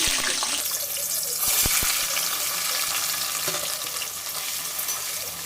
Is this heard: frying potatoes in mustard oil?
yes